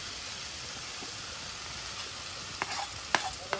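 Shrimp going into a pan of pumpkin and potato curry, a steady hiss of frying throughout with a few clinks and stirring scrapes near the end, no voices.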